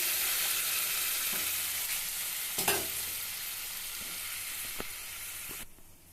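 A tamarind fish curry bubbles and sizzles in a pan, a dense, steady simmering hiss heard up close with a few faint clinks and stirring touches, and no voices.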